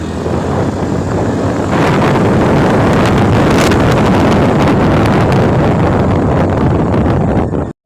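A boat engine drones steadily throughout, mixed with loud rushing wind buffeting the microphone, ending abruptly.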